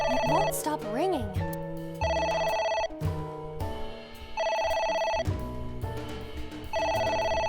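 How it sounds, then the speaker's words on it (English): Telephone ringing in the video game AI: The Somnium Files, a repeated electronic ring in steady bursts that continues for several cycles while people talk over it. "It won't stop ringing."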